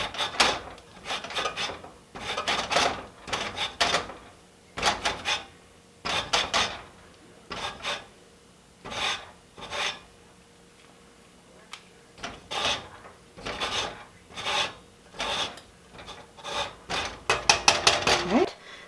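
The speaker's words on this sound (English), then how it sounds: "So I'm going to zest each orange." Oranges scraped against a microplane grater, a close rasping rhythm of short strokes in quick bursts with brief pauses between sets, quickening toward the end.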